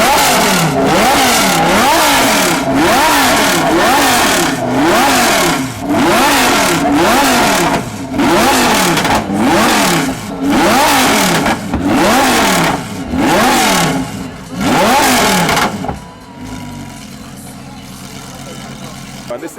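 Lamborghini Huracan Super Trofeo race car engine revved hard again and again, about a dozen loud, close rising-and-falling blips in quick rhythm, then cutting to a quieter settle at the end.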